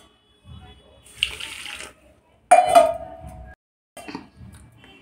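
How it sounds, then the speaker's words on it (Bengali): Water is poured into a bowl of semolina in several short, splashy bursts separated by pauses, close by and moderately loud, with the strongest pour in the middle. "এবার জল দেবো"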